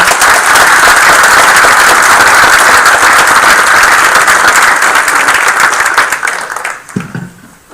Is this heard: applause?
yes